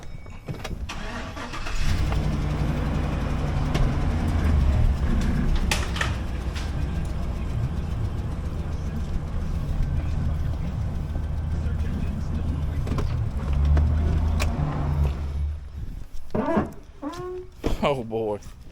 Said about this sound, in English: Let me just move the truck up